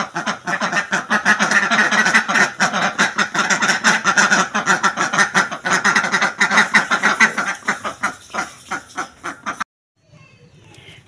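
Village ducks quack loudly and continuously in a noisy, overlapping chorus close by, before the noise suddenly drops to a few faint sounds at the end.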